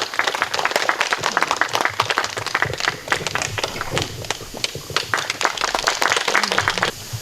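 An audience gathered outdoors in a forest in Dobong for a forum applauds to welcome the speaker, with brisk, dense clapping that carries on steadily for several seconds.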